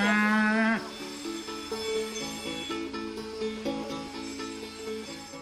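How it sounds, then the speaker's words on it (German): Cattle mooing on a farm: one long, loud moo opens, followed by a run of lower, repeated lowing calls. "Also zu so einem Bauernhof gehören einfach auch Kühe."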